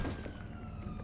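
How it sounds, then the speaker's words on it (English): Police car siren from a car driving by outside a house, a faint wailing tone under low rumbling background. "police siren started up again"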